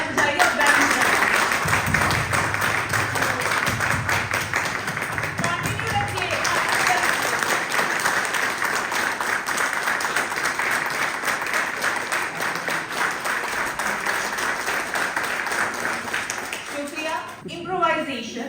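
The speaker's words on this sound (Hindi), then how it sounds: "तो आप खुद भी अपने लिए एक बार तालियां बजाइए और बैठ जाइए।" Theatre workshop participants clapping for themselves: sustained, even applause from a room full of people, steady and unbroken for most of the stretch before tapering off at the end.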